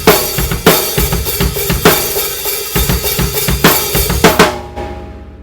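A drum kit plays a full pattern slowly for a song: kick, snare and cymbal hits in a loose, steady groove, loud and close, ending on a ringing cymbal that fades out.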